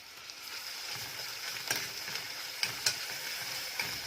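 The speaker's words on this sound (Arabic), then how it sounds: "هستنى كده عندي لما السمنه تسخن قوي، هنزل ببصله، بصلايه متوسطه" Onion frying in very hot ghee, a faint steady sizzle with occasional soft clicks and stirring taps, no voices.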